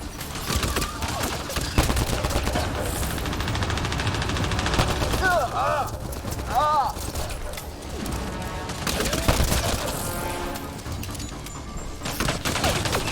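Sustained gunfire rages through a firefight in Mass Effect: Andromeda, with heavy, continuous rapid shots, crashes and a low rumble, while voices shout over the din.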